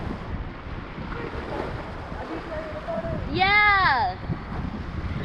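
River rapids on the Truckee River during a rafting trip: a steady, loud rush of churning water and stones fills the whole clip while a person shouts once.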